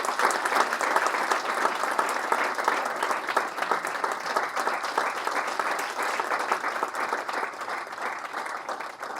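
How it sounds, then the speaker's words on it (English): A large audience at a spiritual talk breaks into sustained, dense applause, many hands clapping steadily and evenly for several seconds to welcome a guest, with no voices over it. "Ladies and gentlemen, with a big round of applause, please welcome Sadhguru Sri Madhusudan Sai ji."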